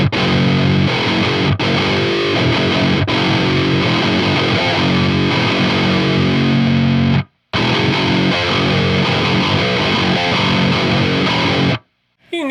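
An electric guitar runs through a Donner Harmonic Square pitched one octave up with overdrive, giving a loud, continuous, dense gritty tone with two brief cutoffs.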